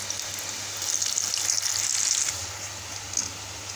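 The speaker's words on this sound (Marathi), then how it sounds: "आपल्याला गोल्डन ब्राऊन होईपर्यंत आपल्याला भाजून तळून घ्यायचे आहेत" Wheat flour kapnya pastries frying in hot oil over a low flame, a continuous close bubbling sizzle that swells in the middle and then settles, with no one talking.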